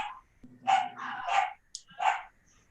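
Dogs barking after cats indoors, several sharp, close barks in an uneven burst, heard alone without talking.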